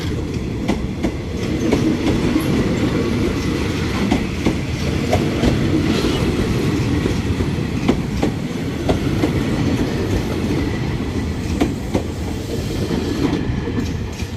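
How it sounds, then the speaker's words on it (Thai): An empty passenger train carrying military cadets leans through the curve at Bang Sue, a loud continuous rumble with steady clickety-clack of wheels over rail joints and faint squeals, close by. "นี่เป็นรถที่นำนักศึกษาวิชาทหารนะฮะ"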